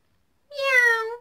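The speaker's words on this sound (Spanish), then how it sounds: "Un gatito lindo." A single clear cat meow, close and clean, rising and then falling over about a second with silence before it.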